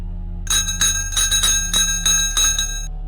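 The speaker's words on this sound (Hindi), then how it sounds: "दूर कहीं मंदिर की घंटी अपने आप बज उठी" A temple bell in a deserted forest rings rapidly and close up, about eight bright metallic strikes in quick succession over a low hum, then fades.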